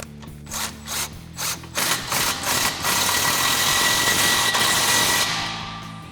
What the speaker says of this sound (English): take our 13 millimeter on our 3/8 gun and give our clamp a good snug here